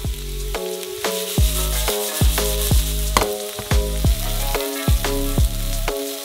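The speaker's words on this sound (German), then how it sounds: "und braten sie auf einer Pfanne." Diced onion frying in a pan for a pasta sauce, a steady sizzle running throughout with repeated louder clatters and stirring bursts at regular intervals, close and fairly loud with no talking.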